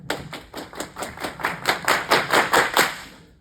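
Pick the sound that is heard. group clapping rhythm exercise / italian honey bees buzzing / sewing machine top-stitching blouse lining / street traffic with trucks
group clapping rhythm exercise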